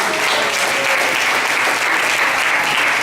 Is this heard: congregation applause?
yes